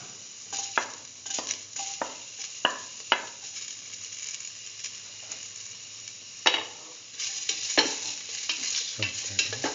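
Shallot pieces sauté in a hot pan, a steady sizzle broken by a handful of sharp scraping stirs and clinks, close and fairly loud with no voices.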